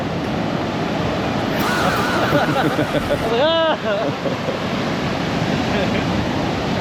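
Choppy, strong ocean surf at a Rio de Janeiro beach, a steady broad wash of breaking water close by with wind, while people talk briefly over it.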